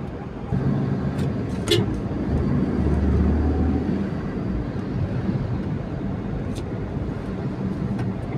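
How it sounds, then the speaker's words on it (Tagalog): Road traffic on a street in Silang, Cavite rumbles steadily as vehicles pass nearby, with engines droning, an occasional horn or squeak, and faint voices mixed in. "umpisa na ang traffic guys"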